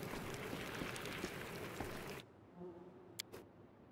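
Dense insect-like buzzing of bees fills a dungeon area in the video game Pathfinder: Wrath of the Righteous, steady and close for about two seconds, then cutting off to a quiet hum with two brief sharp clicks.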